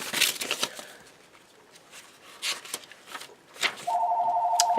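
A telephone rings with a steady electronic trill near the end, after paper rustling and shuffling sounds from handling journal pages, moderately loud indoors.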